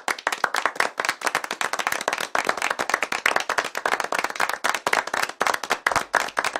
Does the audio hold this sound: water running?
no